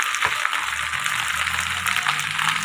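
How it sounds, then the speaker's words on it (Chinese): Vegetables stir-fried in a wok, a steady bright sizzle with faint scraping clatter of the spatula, close and continuous for a couple of seconds. "翻炒两下基本上就熟了"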